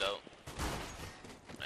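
Rapid gunfire from a CS:GO match rattles through a dense burst of shots, loud and continuous, with a commentator's voice mixed in.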